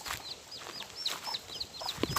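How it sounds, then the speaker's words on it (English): Disturbed chickens at an old Jamaican plantation mansion cluck and squawk in quick, close, repeated calls, with rustling and knocks in the background. "Neck part is chickens. My chickens. She's very disturbed right at the moment."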